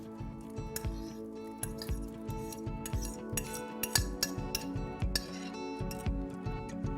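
A masher pressing cooked lentils in a pot of Swiss chard and lemon soup, with regular metallic clinks and soft squishes repeating in a steady rhythm, close and clear, with a low hum beneath.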